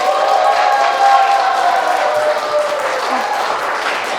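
A lecture audience applauds and cheers in welcome, a dense wash of clapping and crowd noise that holds steady for a few seconds before easing slightly.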